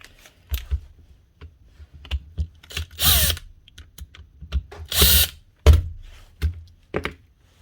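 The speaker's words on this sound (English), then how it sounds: "It's amazing that something that old and a cordless tool is still running." An old, worn Makita BPD140 cordless impact driver fires in short bursts, with loud buzzing pulses near 3 and 5 seconds. Sharp clicks and thunks fill the quiet gaps between bursts.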